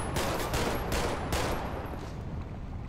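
A video game firing squad lets loose a dense volley of gunfire, several close, loud cracking shots overlapping in a continuous roar that fades slightly toward the end.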